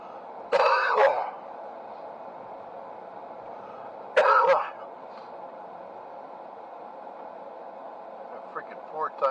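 A man has a coughing fit while driving past police headquarters, with two harsh bursts of coughing and throat clearing separated by a quiet engine hum, plus a faint catch at the end.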